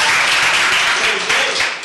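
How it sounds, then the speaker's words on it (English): Brief burst of audience applause at a Los Angeles Economic Development Committee meeting, loud and sustained clapping filling the room, easing slightly near the end. "Please, please hold your applause."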